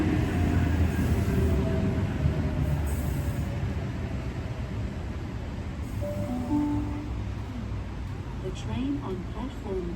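Train pulling into a platform at Epping station in Sydney, with a continuous rolling rumble and occasional brief wheel squeals, moderately distant, under faint background talk.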